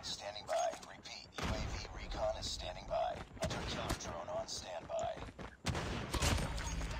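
MK2 carbine rifle shots in Call of Duty Mobile, a string of sharp reports spaced about a second apart, mixed with game sounds and quiet talk underneath.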